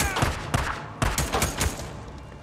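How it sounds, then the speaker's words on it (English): Shotgun fire in the video game Days Gone, several loud, close blasts in quick succession, about four bursts spread over a couple of seconds with a ringing tail between them. "Someone's got that shotgun."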